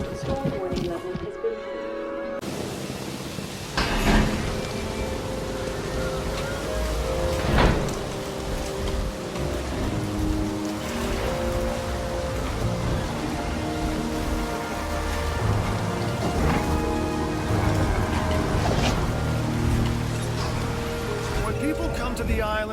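Steady rain pours through a thunderstorm in the dinosaur park game Jurassic World Evolution, with a few rumbling thunder swells and a spoken announcement over the weather.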